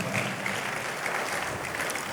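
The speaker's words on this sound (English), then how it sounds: "Another big round of applause for..." Even, continuous applause from an audience at an investment summit in Anambra, a moderate, distant-sounding patter of many hands lasting a couple of seconds.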